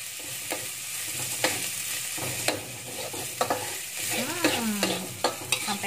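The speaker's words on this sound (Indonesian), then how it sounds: "Aduk sebentar." Ingredients sizzle in oil in a frying pan while a utensil stirs them, with steady frying hiss and repeated sharp scraping strokes against the pan, close and moderately loud.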